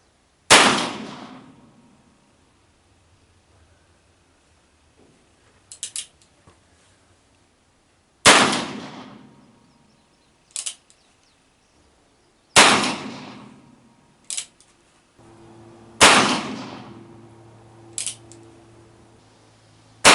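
A Pietta 1858 Navy revolver with a .36 conversion cylinder fires 148-grain hollow-base wadcutters at a target about 21 to 22 yards away outdoors. There are four loud, sharp shots several seconds apart, each followed by fainter metallic clinks.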